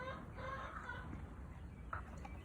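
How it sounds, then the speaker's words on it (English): Chickens cluck faintly from behind hay in a barn on a rainy workday, soft scattered clucks under low background noise. "You find weird things, like chickens hiding behind hay."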